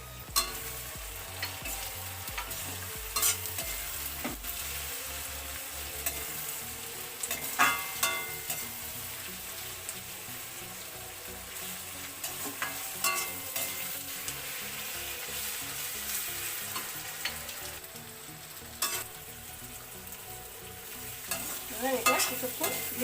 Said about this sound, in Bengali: এবার এটা কিছুক্ষণ ভেজে নেব।